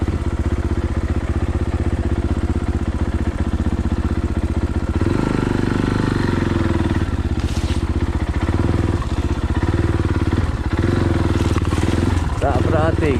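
A Fantic Caballero 500 Rally motorcycle rides along with a loud, steady thumping engine note from a close onboard position, shifting in tone partway through, with wind rumble and a rider talking over it.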